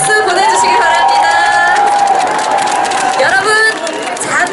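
At an outdoor healing concert, the audience cheers and applauds after a trot singer's celebratory performance, a loud, continuous crowd roar with shouts and chatter throughout while an announcer speaks over it.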